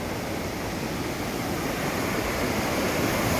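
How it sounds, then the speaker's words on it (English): Waterfall at Gatton Creek Falls in the Quinault rain forest during rain, a steady dense rushing roar of falling water that fills the clip without pause. "Love the sound of running water"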